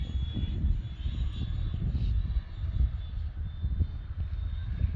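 A 95-inch FunScale F/A-18C radio-controlled model jet on its maiden flight in light wind gives off a steady, fairly loud, rumbling jet roar that holds throughout, with no talk.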